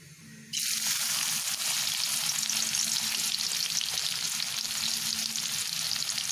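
Chopped onion dropped into leftover fish-frying oil in a pan, bursting into a loud, steady sizzle that holds evenly after a brief quiet start, with no one talking.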